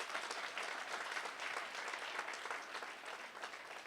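Audience applause at a university sport awards gala, a dense, steady clapping from a large crowd that stays even for about four seconds without any voices on top.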